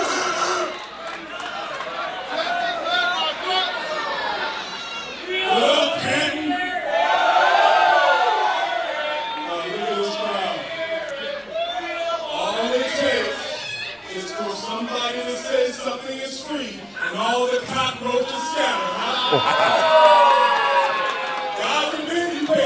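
Wrestling fans at a live independent show react to Joe Black with loud, sustained crowd noise, cheers, whoops and chatter swelling and ebbing throughout, with a voice on a microphone mixed in.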